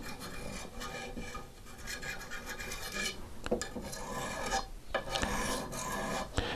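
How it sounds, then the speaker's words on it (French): A diamond file rasps steadily along a scythe blade in repeated strokes, close and fairly loud, with a few sharper scrapes and no voices. "Maintenant, on a la lime au diamant."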